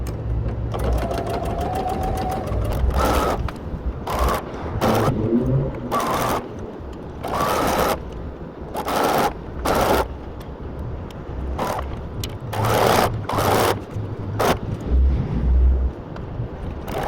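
A sewing machine stitches sleeves onto a casual top in repeated short runs, its close mechanical whir starting and stopping in bursts over a low background hum.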